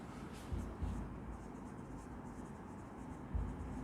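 Pen writing on paper, a soft continuous scratchy rustle close to the microphone with a few light taps and bumps against the desk, no talking.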